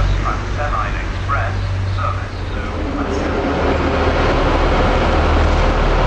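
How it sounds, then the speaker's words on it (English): A Manchester Airport train arriving at a station rumbles steadily with a low drone through the whole stretch, while people talk faintly over the noise of the platform. "our train back to Leeds is this Manchester Airport one here"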